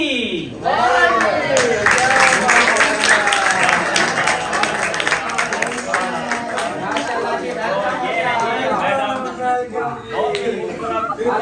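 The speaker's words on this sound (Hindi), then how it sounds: "अभी आपकी भरपूर तालियों में ही हाजिर होते हैं मैडम मुल्तानी" A crowd in a village gathering claps loudly and steadily to welcome Madam Multani, with chatter running under the applause throughout.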